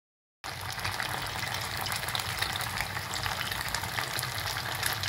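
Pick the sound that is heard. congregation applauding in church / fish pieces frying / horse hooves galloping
fish pieces frying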